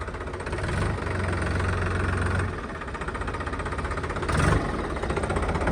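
A tractor engine at a farm expo idles at slow rpm, a steady low rumble with mild knocking that holds near and fairly loud throughout, swelling briefly twice.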